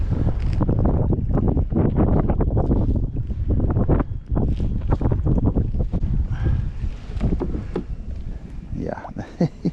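Gusty wind buffets the microphone on a lake during kayak fishing, a loud, steady low rumble with bursts and flutters throughout, along with faint water sounds and occasional voice sounds.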